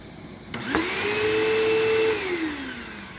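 A 2004 Bissell PowerForce 3522-1 bagged upright vacuum cleaner switches on with a click, its motor whine rising to a steady loud drone, then winding down as it is shut off.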